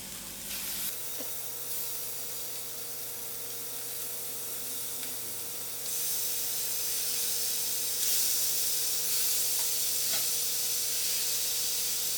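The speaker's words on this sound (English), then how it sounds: "now I'm going to place in my chops and lower my heat so the fat can melt into the masala" Lamb chops drop into masala in a pan and set up a loud, continuous sizzle and hiss that swells stronger partway through, with no talk over it.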